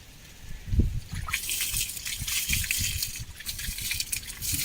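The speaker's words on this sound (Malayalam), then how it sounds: "ഇതിലേക്ക് നമ്മൾ വീണ്ടും വെള്ളം ചാരി കൊടുക്കുക" Water is poured onto quicklime made from shells, giving a close, gushing, fizzing hiss that rises and keeps bubbling with small splashes, without any talking.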